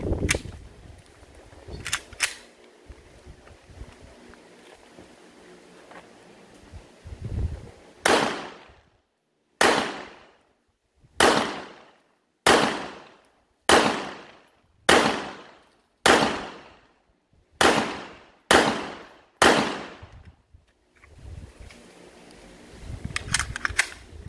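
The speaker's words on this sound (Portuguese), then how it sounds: "Eu vou efetuar aí 10 disparos." CZ P09 9mm polymer pistol fitted with a red dot sight, fired ten times in double action outdoors. The sharp, loud reports come one by one at a steady, unhurried pace, and each rings out briefly before fading to quiet.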